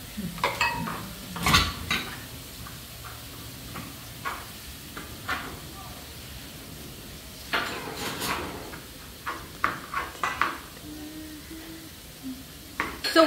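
Dishes, pots and cutlery are washed in a home kitchen during Indian vegan cooking, giving scattered clinks, clanks and scraping knocks at irregular intervals, some close and sharp, others softer.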